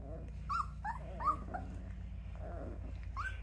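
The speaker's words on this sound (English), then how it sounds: "Beautiful, classic, black Newfoundland babies." Three-week-old solid black Newfoundland puppies whimper and yip in a few short high cries near the start and end, heard close over a low steady hum with faint talk in the background.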